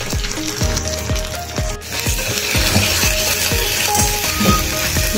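Ginger-garlic paste fries with onions in hot oil for a mutton keema ghugni, giving a steady, loud sizzle under a quick, regular metallic clatter of stirring against the pan, with no voices.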